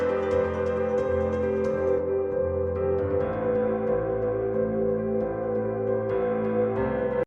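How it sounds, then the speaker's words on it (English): Delayed piano plays in a song chorus, sustained chords and notes echoing over a full mix with a steady low end, continuous and clear with no voices. "This is also in the chorus where I add in this delayed piano you're going to hear right here."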